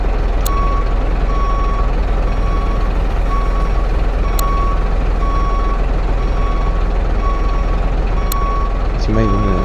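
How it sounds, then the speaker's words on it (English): Reversing alarm on a Mercedes van beeping in a steady, evenly spaced rhythm throughout, sounding near and clear over a constant loud engine idle rumble, with a brief knock or clunk near the end. "this is what the reversing meter sounds like"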